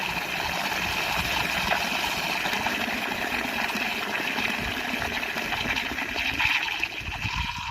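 Water runs steadily through a regulator into a cow shed trough, a continuous close gushing and splashing flow that stays even in level throughout, with no voices.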